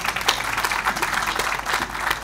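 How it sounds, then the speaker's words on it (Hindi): Journalists applaud at a press gathering in Peshawar, a steady, loud burst of clapping that continues throughout. "आज जो तालियां बजा रहे हैं आप अपने लिए बजा रहे हैं"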